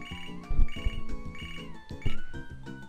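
A phone ringtone chirps indoors in a repeating electronic melody, several bright beeping phrases over about three seconds, moderately loud and alone.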